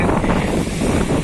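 Strong wind buffets the microphone on the Black Sea shore, a steady broadband roar blended with the wash of surf, loud and unbroken throughout.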